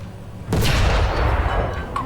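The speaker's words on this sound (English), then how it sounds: "Now fire at the fighting compartment on the tank" A tank cannon in a video game fires a single heavy round at an enemy tank's fighting compartment, a sudden loud boom that rolls into a long rumbling tail.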